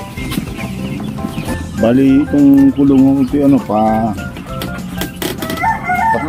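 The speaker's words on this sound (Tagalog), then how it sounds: "Itong mga broiler po." Broiler chickens in a cage give loud, close, harmonic calls in a run of several bursts, with someone talking nearby before and after.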